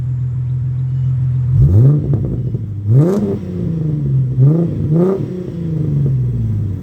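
A SYX-R 50 engine fitted with an aftermarket muffler and a changed air filter revs up close by in four sharp blips, each climbing and falling back to a steady idle.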